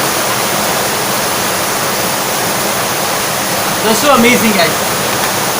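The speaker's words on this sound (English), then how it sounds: "It's Nokalikai Waterfall. 340 meters tallest plunge waterfall in India." Roaring broadband rush of the 340-metre Nohkalikai plunge waterfall in Meghalaya, India, a steady distant wash heard throughout, with a person speaking excitedly over it near the end.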